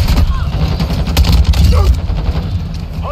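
Chopper gunner killstreak in a shooter video game, a helicopter's gun firing rapid bursts of gunfire over steady engine and battle rumble, loud and continuous with game effects layered in.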